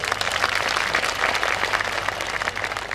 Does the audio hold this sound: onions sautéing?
no